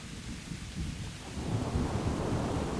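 A thunderstorm in the video game Kingdom Come: Deliverance: low rolling thunder rumbles beneath steady rain, swelling louder midway and staying heavy to the end, with no voices.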